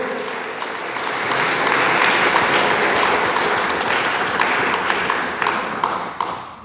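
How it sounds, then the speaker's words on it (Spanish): A church congregation applauds together during a sermon, steady dense clapping that swells and holds for several seconds before thinning out near the end. "Dele palmas al Dios de la gloria."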